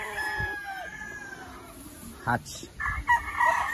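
Roundhead chickens crow and cluck nearby on a free-range farm, with a drawn-out crow and short clucks while a person speaks briefly.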